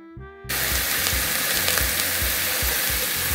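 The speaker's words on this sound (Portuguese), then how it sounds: "a gente vai dar essa selada aqui para passar bem muito sabor para esse feijão" Beef ribs for black bean stew are seared fat side down in a hot pot, with a sudden loud sizzle breaking out after a brief quiet moment and crackling steadily from close by.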